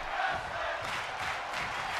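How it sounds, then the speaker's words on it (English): A wrestling video game arena crowd in WWE 2K22 chants at a steady roar, a dense, moderately loud wash of many voices with rhythmic swells and no commentary over it. "The crowd is chanting tag team wrestling."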